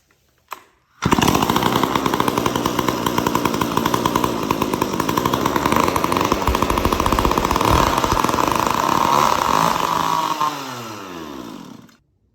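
A Stihl 031AV chainsaw with a newly replaced carburetor starts with a sharp pop and then runs at a steady, loud, buzzing idle for about ten seconds before winding down and cutting out.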